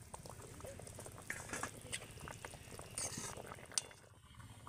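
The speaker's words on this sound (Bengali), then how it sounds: "রসের মধ্যে পিঠেগুলো দিয়ে একটু ফুটিয়ে নেব।" Fried palm dalia pitha simmering in boiling sugar syrup, a faint, steady bubbling and soft popping with occasional light clinks, continuous and close without any talk.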